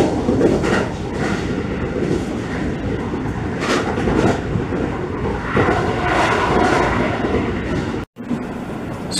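A Keio 9000 series train rumbles along steadily above ground with rhythmic wheel clatter and broadband rolling noise, loud and close, as if heard from inside a carriage.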